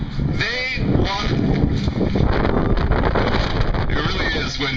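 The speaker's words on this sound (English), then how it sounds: "You hear that wind blowing." Strong gusting wind roars steadily across the microphone at an outdoor rally on a cold day, a constant loud rumble with a faint voice underneath.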